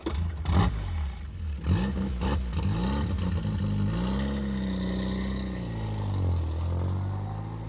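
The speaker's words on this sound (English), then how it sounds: "This is a 1935 Morgan F4. Uses the Ford 1172cc 10 horsepower engine." A 1935 Morgan F4 three-wheeler with a Ford 1172cc 10 horsepower engine running close by, with a few blips of the throttle and then a steady idle that rises and falls.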